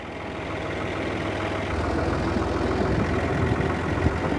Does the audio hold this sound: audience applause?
no